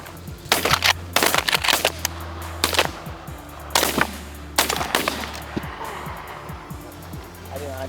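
Repeated loud shotgun blasts ring out in clusters during a goose hunt in Michigan, several quick shots followed by a few later ones, with hunters calling out in between.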